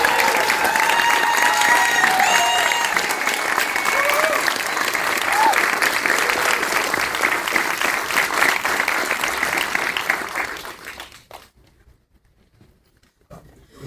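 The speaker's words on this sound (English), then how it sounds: "give them a round of applause" An audience at a documentary film premiere Q&A applauds security guards, a loud, sustained wash of clapping with whoops and cheers over it that lasts around ten seconds before dying away into near silence.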